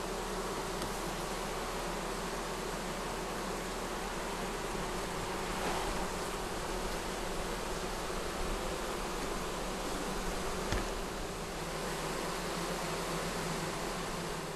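Honey bee colonies buzz inside their hives, making a dense, steady, unbroken hum that fills the whole stretch, near and even in loudness, with no voices.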